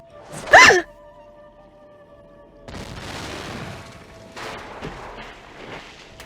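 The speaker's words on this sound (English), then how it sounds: "whoever threw that ice ball at me must have set off an explosion that shattered the ice" In the Nancy Drew game The White Wolf of Icicle Creek, an explosion shatters ice on a frozen lake: a sharp, loud burst up front, then a quieter stretch followed by rumbling, cracking debris noise.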